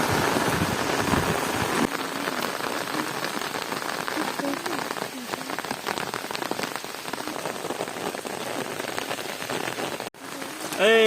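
Heavy rain pours steadily on a road and an umbrella while water runs and rushes along the ground during a walk, loud and continuous, with faint voices underneath near the end.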